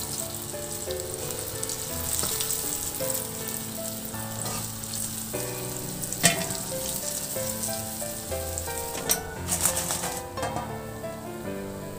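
Tilapia fillets fry in hot oil in a pan, giving a steady close crackling sizzle throughout with occasional sharper pops and spits.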